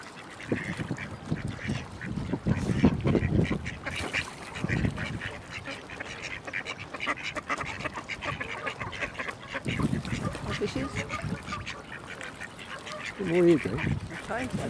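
Ducks quacking beside a carp lake in France, their calls scattered and moderately close amid steady outdoor noise, with people talking over them.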